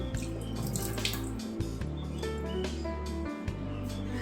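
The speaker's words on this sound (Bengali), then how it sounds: "তো চলো ভাতটা ধুয়ে নিই" Rice is washed in a home kitchen under running tap water, with continuous splashing and sloshing punctuated by brief clinks and pauses as the grains are swirled by hand.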